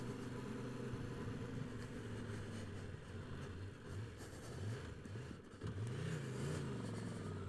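A motorcycle with a 21-inch front wheel labours up the steep hairpins of Hardknott Pass in the Lake District, its engine droning steadily and loudly with repeated rising and falling revs as the clutch is feathered through the climb.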